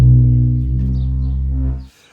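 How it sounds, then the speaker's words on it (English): A sustained low bass note from the second bass sample of the Hears The Rubs Kontakt instrument, loud and steady, holding for nearly two seconds before cutting off abruptly, with no talk. "let's jump up to the second bass sample so we're not getting bored with our source material"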